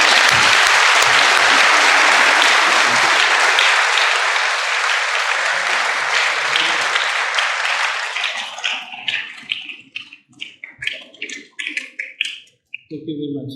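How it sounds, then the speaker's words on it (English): An audience applauds a retired vice admiral introduced as a guest speaker, with loud, dense clapping for about eight seconds that thins into scattered individual claps and then stops. "Ladies and gentlemen, a huge round of applause for the Admiral."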